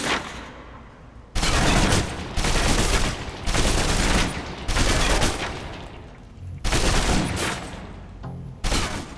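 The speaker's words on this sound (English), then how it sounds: "Now, let's move on to the submachine gun. Now let's empty the clip." A submachine gun in the video game Alpha Protocol empties a full magazine in several loud sustained bursts of rapid gunfire, separated by brief pauses, close and dominant.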